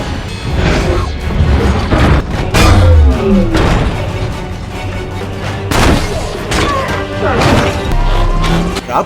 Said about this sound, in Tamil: டிராப் கிக் மொத்தமா வெடிச்சு பீஸ் ஆயிடுறான்.